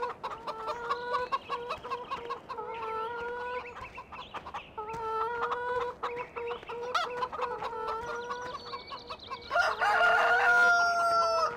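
Video game audio from Farming Simulator 2013: hens cluck continuously in a busy chorus while a rooster crows loudly near the end, the whole flock close and steady throughout.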